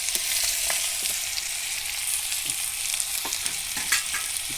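Food fries in a little oil in a kadai, an unbroken bright sizzle close by, dotted with faint ticks and taps from the pan.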